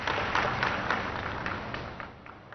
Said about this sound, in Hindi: हम तालियों के साथ आभार प्रकट करें माननीय प्रधानमंत्री जी का।